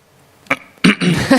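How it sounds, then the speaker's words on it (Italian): A single short cough during an interview, close and fairly loud, followed at once by a few rough, throaty sounds. "scusate, il colpo di tosse non era voluto"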